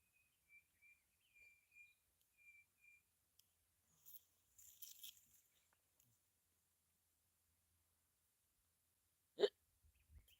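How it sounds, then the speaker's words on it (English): A person hiccups once, loud and close, in a quiet outdoor camping setting, with faint bird chirps and soft rustling earlier. "Give me the hiccups"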